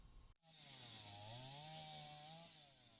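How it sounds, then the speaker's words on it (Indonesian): A chainsaw cuts fallen trembesi (rain tree) branches lying on a crushed car in Sidoarjo, Indonesia. After a brief pause the engine revs into a loud, steady, close droning whine that holds throughout. "Dengan menggunakan gergaji mesin, petugas memotong dahan pohon trembesi yang menimpa mobil milik siswa."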